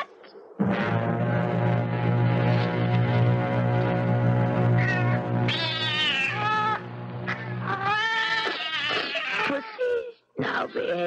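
A long, drawn-out cat meow from a radio drama, loud and close, wavering and rising into a strained wail near the end; it sounds like a performer's voice imitating the cat.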